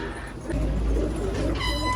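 Pigeons cooing at a coffeehouse, a few low soft coos rising over a steady murmur of background noise, with faint voices and a brief high chirping near the end.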